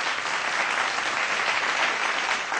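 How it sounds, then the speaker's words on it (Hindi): A studio audience at an Indian television news channel gives a steady, loud round of applause that fills the whole stretch without a break, with no one speaking over it. "एक बार फिर से जोरदार तालियां"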